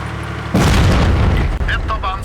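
In a World of Tanks match, an artillery shell slams into the player's tank with a sudden loud, close boom that rolls on in a dense rumble, followed by fainter tonal game effects, while a voice talks over it.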